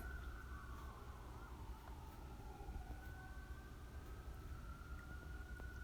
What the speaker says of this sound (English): One day I'm going to learn how to edit out all of the sirens and background noise.